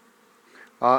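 Bees from a feral nest in a walnut tree buzz faintly and steadily before a voice briefly cuts in loudly.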